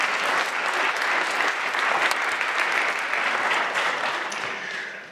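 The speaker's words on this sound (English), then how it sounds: "round of applause" An audience at a high school winter band concert claps in a sustained, dense round of applause that stays loud throughout and tapers off slightly at the end.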